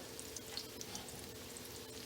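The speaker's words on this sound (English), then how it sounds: "This is called pan frying." Chicken pieces pan-fry in a generous layer of hot oil, not fully submerged, while a chicken parm is cooked. A faint, steady sizzling hiss runs throughout, scattered with soft crackles and pops.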